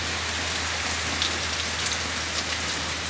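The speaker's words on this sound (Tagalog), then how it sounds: "umuulan na naman po." Rain falls steadily over rice fields and plants, a constant close hiss of drops hitting surfaces with no talk.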